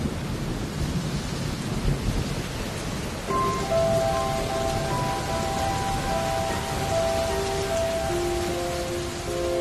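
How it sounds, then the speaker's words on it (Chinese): Steady rain falls through the night, a dense even hiss that runs the whole time, while soft sustained musical tones enter partway through and float above it. "天黑了，下雨了"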